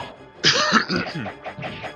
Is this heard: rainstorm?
no